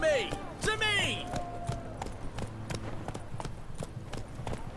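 Horse hooves clip-clop at a steady trot in The Witcher 3, a regular beat of moderate-loud hits, with a brief voice and tonal game sounds layered over the start.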